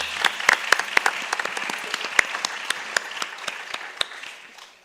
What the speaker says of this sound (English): Let's give an applause to Mr. Raman Kalyan.